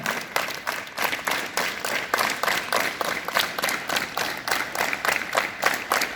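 A group of students at a school morning assembly clapping their hands together in rhythm as an exercise: steady, evenly spaced claps repeating for several seconds, fairly loud and close, with no speech.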